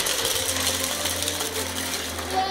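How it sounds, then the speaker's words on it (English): Candy canes ground in a kitchen grinder for a Christmas cookie topping, a steady, close, rough mechanical grinding and rattling that runs without a break, with no talking. "grind up our candy canes for the top"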